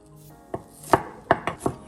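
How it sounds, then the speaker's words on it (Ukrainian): A knife chops an onion on a cutting board in five crisp, close, irregularly spaced strikes. "дорізаємо нашу цибульку."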